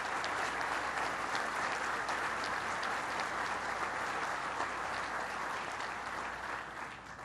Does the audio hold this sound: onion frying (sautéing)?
no